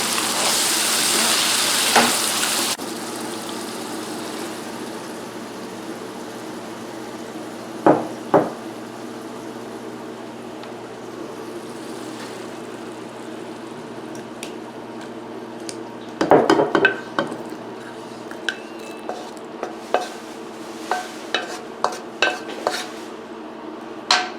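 Onion stirred into simmering mapo tofu sauce in a pan, a low steady sizzle broken by clattering utensil scrapes and knocks, with bursts of stirring clinks in the second half.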